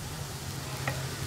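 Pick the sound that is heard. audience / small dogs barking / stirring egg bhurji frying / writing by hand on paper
stirring egg bhurji frying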